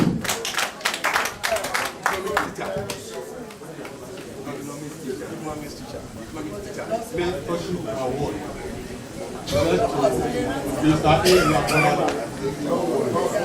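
An audience at a Playfair Memorial College alumni 40th anniversary celebration in Ilorin claps, with sharp bursts of clapping starting and fading, then rising again under ongoing talk and crowd chatter.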